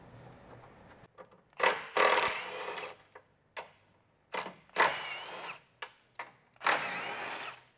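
Bursts from a power tool loosening the front bumper bolts on a Toyota Tacoma, several separate whirring runs of one to two seconds each with short pauses between, close and fairly loud.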